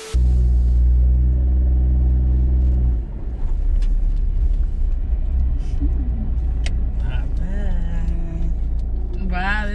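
A small kei van's engine idles with a low rumble, then it pulls away and drives along. People chat inside over the motor noise.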